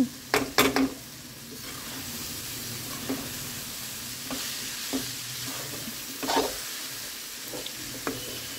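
Peas and flattened rice (poha) frying in a pan, a soft continuous sizzle with several sharp spoon-stirring clinks and scrapes, loudest in a quick cluster at the start, then spaced out.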